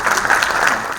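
Brief burst of applause from an audience at an anniversary celebration for an NGO in Morocco, a dense steady clatter of clapping at close range with no voices.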